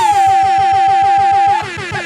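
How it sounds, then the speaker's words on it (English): A loud air horn blares in a long sustained blast over a pulsing rhythmic beat, then cuts off abruptly. "We got air horns and bombs, baby."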